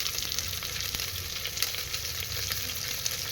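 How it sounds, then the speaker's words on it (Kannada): Curry leaves crackling in hot tempering oil for a bean and lentil curry, a dense, close sizzle with sharp spattering pops and stirring sounds throughout. "ಈ ಒಗ್ಗರಣೆಗೆ ಮತ್ತು ಮೇಯ್ನು ಇಂಪಾರ್ಟೆಂಟು ಕರಿಬೇವನ್ನ ಈಗ ಆ್ಯಡ್ ಮಾಡಿಕೊಂಡೆ"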